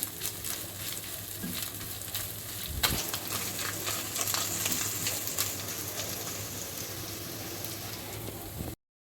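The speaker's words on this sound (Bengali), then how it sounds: "পেঁয়াজ বিরিজটা দিয়ে আর একটু ভালো করে ভেজে নিলাম চিকেনটাকে" Chicken pieces with fried onion frying in a pan, a steady, dense crackling sizzle close and fairly loud, with one brief knock partway through, no talking, ending abruptly.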